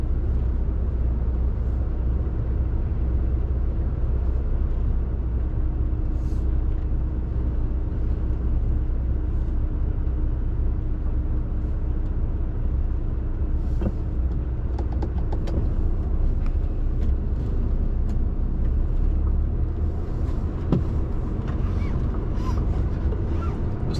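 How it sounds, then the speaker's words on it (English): A car's engine hums with a steady, continuous low rumble as it backs out of a parking space, with faint clicks and road noise and no voices. "try and reverse out of this little parking space"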